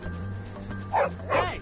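A dog in the video game Bully gives two short, close yips or barks over a low hum of game background noise, with no talking.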